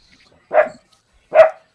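A dog gives two sharp, loud barks close by, spaced under a second apart, with near silence around them and no talk.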